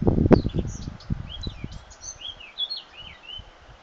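Several birds chirp and sing in the distance in the Auvergne countryside, with short bright calls overlapping against a quiet outdoor background after a few soft thumps, near a flowering hawthorn and a river below.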